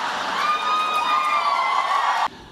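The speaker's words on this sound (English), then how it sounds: "Never gotten quite such an applause before." An audience at a Google talk with Shahrukh Khan and Sundar Pichai cheers and applauds. The crowd noise is loud, dense and sustained, then cuts off abruptly near the end.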